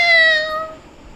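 A cat meows once, loud and close, a single drawn-out call that fades out within about a second, leaving a quiet room with no one talking.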